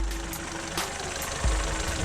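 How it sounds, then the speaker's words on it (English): A Fiat Panda's engine idling, a low, steady mechanical hum with faint ticking from the motor, heard close and fairly quiet with no talk over it. "The engine's pretty quiet,"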